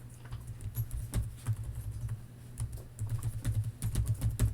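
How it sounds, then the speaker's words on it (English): Close, quiet typing on a computer keyboard while entering an Excel formula, with soft irregular key taps in quick clusters and short pauses. "We're going to type equals count blank."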